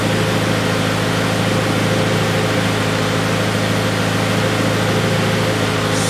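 A 2000s Acura RSX engine idles steadily with a low, even drone and broadband hiss, running on after its fuel pump has been disabled, with no clear stall yet.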